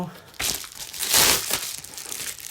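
Close, loud crinkling and tearing of a mailed package's plastic or paper wrapping, rising in bursts for a couple of seconds, with someone speaking during it.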